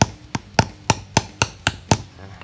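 Steady hammering of nails into wood while building a homemade bamboo rocket with a tail, nine sharp, evenly spaced blows at close range, with no talk.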